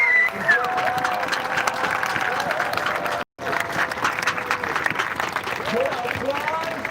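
A crowd at a Los Angeles street protest rally against a district attorney applauds with a continuous wash of clapping and crowd noise that fills the scene, broken by one short gap, with voices mixed in.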